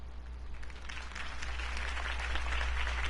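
A crowd at a Harvey Dent campaign speech in Batman: The Telltale Series breaks into applause, a dense wash of clapping that builds and holds steady over a low background hum.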